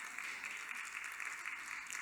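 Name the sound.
a couple of claps from church congregation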